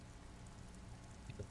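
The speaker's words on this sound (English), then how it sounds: "Standing in the rain, looking north" Steady rain in the video game Disco Elysium, a soft, even wash of falling drops that hisses continuously throughout, with a couple of faint low thuds near the end.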